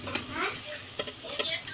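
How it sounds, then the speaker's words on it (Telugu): Chicken biryani ingredients frying until brown, with a spoon scraping and stirring through hot oil in brief bursts over a soft, close sizzle; no talking. "ఇట్లా బ్రౌన్ కలర్ వచ్చేంత వరకు అయితే వేయించుకోవాలి"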